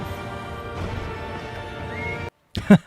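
A horse whinnies in a long, drawn-out neigh over faint clip-clop, then a brief silence before another sharp, loud whinny, from the film The Lord of the Rings: The Two Towers.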